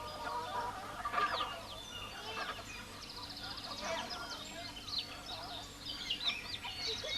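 Chickens cluck in a Kayan village on the Kalimantan Plateau of Borneo, a scatter of short calls near and far over a steady rural background with faint voices mixed in.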